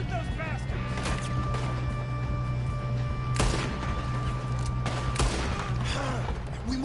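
Red Dead Redemption 2 gunfire, a few sharp shots around the middle over a steady game background hum, with speech running alongside.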